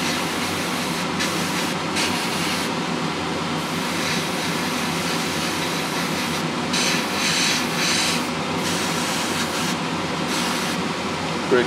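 An airbrush sprays thinned Mr Hobby model paint with a steady, close hiss that continues for over ten seconds, broken by a few brief pauses in the airflow.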